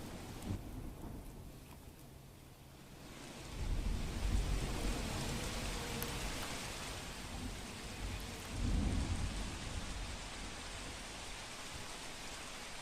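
Heavy monsoon downpour at Akhodar village in Junagadh, a constant broad hiss of rain with deep thunder rumbling up twice, loud and enveloping, no voices heard.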